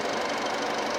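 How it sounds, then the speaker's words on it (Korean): A used car engine with about 90,000 km on it runs steadily, a loud continuous mechanical hum with a faint ticking pulse and no pauses, heard up close. "자 엔진 소리 한번 들려드릴게요"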